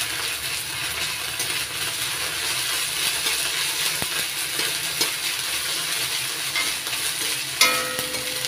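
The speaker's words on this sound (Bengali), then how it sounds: "এবার দিয়ে দিচ্ছি আদা রসুন বাটা 1 চামচ। আদা রসুনের গন্ধটা যতক্ষণ কাঁচা গন্ধটা থাকবে ততক্ষণ ভেজে নেব।" Ginger-garlic paste fries in a pan for a stuffed pointed gourd dish, a steady moderate sizzle with occasional light clinks of a utensil and no talk.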